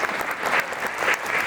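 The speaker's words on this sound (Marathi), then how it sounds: "एकदा यांच्यासाठी जोरदार टाळ्या वाजवूया." An audience at a lecture event breaks into applause, a dense, even wash of clapping that holds steady for a moment, close and loud, with no talk.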